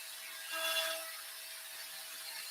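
A CNC router makes pocketing passes in wood, clearing the inner waste of a dovetail box joint at 1/8 inch per pass. A fairly faint, steady whirring hiss swells briefly early on, then holds even.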